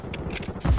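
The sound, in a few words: magazine being swapped on a gun in a video game (COD MW2)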